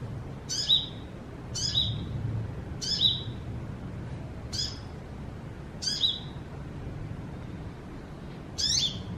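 Small yellow and blue birds in a tree give short, bright chirps, about six spaced calls over several seconds, moderately distant above a low background hum.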